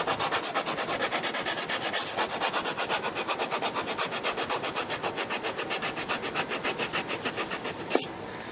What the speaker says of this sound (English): This is so I can clean underneath the braces pretty good and keep with the grain so I don't leave any weird sanding marks.